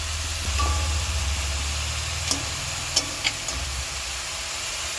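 Chopped onions stirred and frying in a pan for an egg omelette kalia, a steady low sizzle throughout with a few sharp clicks of the spoon against the pan toward the middle.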